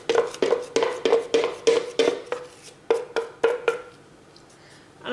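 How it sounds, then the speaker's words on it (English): Spoon repeatedly clacking against a bowl while wet ingredients are mixed into dry ones for gluten-free vegan chocolate muffin batter, a quick run of rhythmic knocks that trails off into quiet. "I'm going to mix these together until they form a cake mix"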